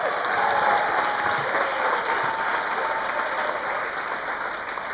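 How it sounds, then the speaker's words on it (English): A large audience at a 2022 high school graduation ceremony breaks into loud, sustained applause. The dense clapping holds steady and close for the whole stretch without easing off. "congratulations, class of 2022. You did it. Let's hear a big round of applause."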